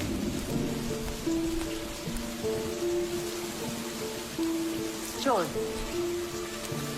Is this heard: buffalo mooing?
no